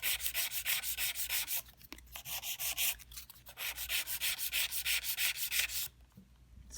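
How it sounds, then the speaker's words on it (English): A nail file rasps in quick, rhythmic back-and-forth strokes across a sculpted gel stiletto nail, close and crisp, with a few short pauses between bursts of filing. "we're going to start our same filing that we do for every shape of your nail"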